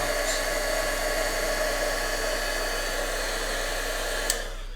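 Heat tool blowing steadily to dry wet embossing on paper, a continuous close airy whoosh with no break, cutting off abruptly near the end.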